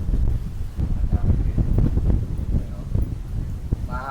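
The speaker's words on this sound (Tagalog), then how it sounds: "Mahangin ba?" Gusty wind buffets the microphone at a cable car in Malaysia with a low, steady rumble, broken by bursts of rustling and a few brief background noises.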